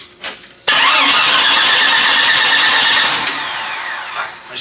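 An engine cranks briefly, then catches and roars loudly while running without a fuel pump, holding a steady, busy mechanical tone for about three seconds before easing down slightly; no talking.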